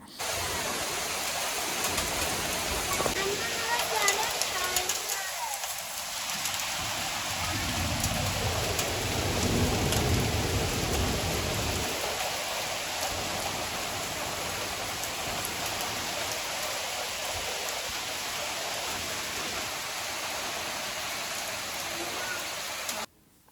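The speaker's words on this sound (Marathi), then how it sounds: "संध्याकाळी थोड्या थोड्या गारा पडल्या होत्या आणि त्याच्याबरोबर खूप सारा इकडे पाऊस झाला" Heavy rain falling with some hail in Germany, a steady broadband hiss of downpour running throughout at a fairly constant level, with faint voices briefly underneath.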